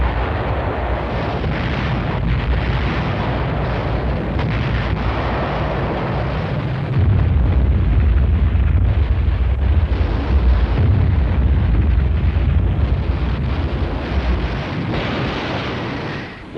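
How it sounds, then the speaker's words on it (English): Rocket barrage explosions on Iwo Jima in archival war footage form a continuous loud roaring rumble of blasts, swelling heavier and deeper midway, with no clear breaks between impacts. "Once its rockets were fired, the vulnerable rocket launchers quickly left the area."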